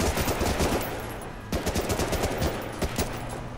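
Rapid machine-gun gunfire from the World War II shooter Medal of Honor: Rising Sun during the Fall of the Philippines level, continuous loud rattling bursts with a brief break halfway through.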